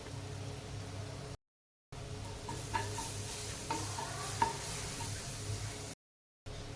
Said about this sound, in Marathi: हा ठेचा आपण दोन मिनटं तेलामध्ये परतून घेऊयात